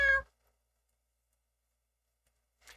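A house cat gives a short, close meow, then near-silence follows before a second faint, brief mew at the very end.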